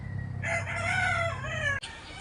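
A gamecock crows once nearby on a small backyard fighting-rooster farm, a loud drawn-out call that rises and trails off, preceded by soft ambient noise and followed by a sharp bump.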